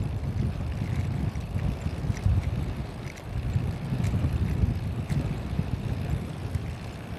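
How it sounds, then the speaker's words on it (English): Steady wind gusting against the microphone outdoors beside a road near an on-ramp while hitchhiking into a headwind, a continuous low buffeting roar with no speech. "It's a little breezy. Right now we're heading into a headwind."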